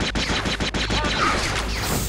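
Blaster and gunfire from the Jedi Outcast video game, a rapid volley of sharp shots in the first second, then a denser, washed-out barrage of game combat noise continuing steadily.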